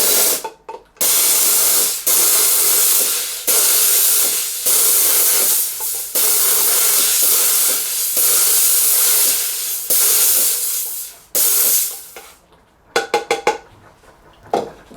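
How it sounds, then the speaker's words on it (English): Reliable 500CJ jewelry steamer, worked by a foot pedal, releases loud bursts of hissing steam spray in repeated blasts of a second or two each, with brief gaps between, ending in a few short sharp puffs. "You step on the pedal like I'm about to do."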